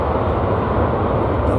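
A UPS cargo plane at DFW Airport gives a loud, broad, rumbling engine roar for a moment, close and steady with no voices.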